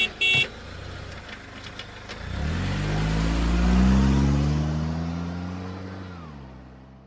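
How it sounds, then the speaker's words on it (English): A car engine idles and then revs up, its pitch rising and falling as the vehicle accelerates close by, loud and steady, after a brief horn toot at the start. "So this is a vehicle."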